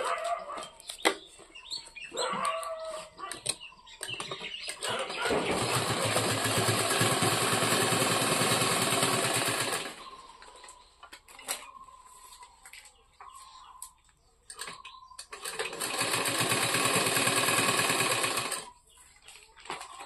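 A sewing machine stitches a sack bag in two long loud runs of rapid mechanical whirring, separated by quieter pauses with handling noises and a faint hen clucking in the background.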